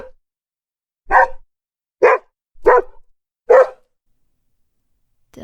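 An Alsatian pup gives four short, sharp barks, loud and close, spaced about a second apart with silence between them.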